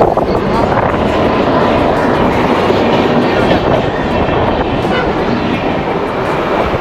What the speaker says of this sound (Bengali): এই দেখো ট্রেন লাইনটা, ট্রেন আসছে